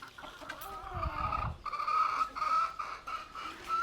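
Chickens in a home garden in India cluck and murmur close by, a low burst of rustling early on, then steady, moderately loud clucking with rising calls that repeat.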